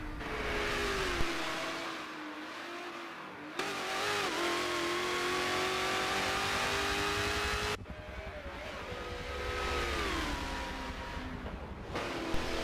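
A Chevrolet Corvette C4 in the Forza racing game, its engine revving and climbing in pitch through repeated gear changes, with sharp breaks at each shift.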